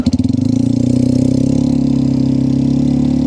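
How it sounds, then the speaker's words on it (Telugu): An ATV engine running on the beach: a close, loud, even idle with a rapid pulsing throb that holds steady after a brief start. "ఇక్కడ మీరు ATV బైక్ అయితే చూడొచ్చు. ఇది రైడ్ చేసే ఛాన్స్ అయితే వచ్చింది."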